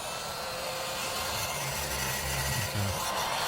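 A heat gun set around 300 degrees runs steadily, used to shrink heat-shrink tubing over soldered joints on an LED strip; its blowing roar is a continuous, even broadband hiss throughout.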